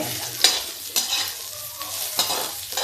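A spoon scrapes and swirls through buttermilk kadhi in a pan, with rhythmic stirring strokes about every half second and a faint sizzle underneath.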